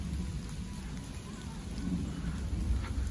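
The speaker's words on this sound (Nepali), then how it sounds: "पानी पर्न सुरु भयो थट त पानी पर्यो" Rain begins falling on a mountain ridge near a gompa, making a steady, dense hiss with a low rumbling wash underneath and faint scattered patter throughout.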